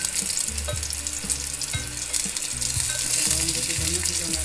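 Garlic sautéing in a Tupperware Tchef pan, a steady loud sizzle of frying with a spatula stirring and scraping in uneven knocks, no talk over it.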